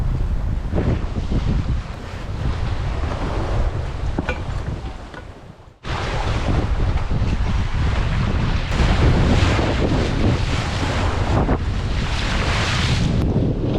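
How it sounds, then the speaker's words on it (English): Wind and waves aboard a Raven 26 sailboat under way, a loud continuous rush of wind buffeting the microphone over sloshing water, briefly dipping and cutting off midway before resuming just as strong. "I feel like the wind is easing a little bit"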